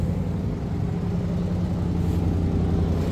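A car engine idles steadily while someone works on rusty brake lines, a close low rumble with an even throb throughout and no talk.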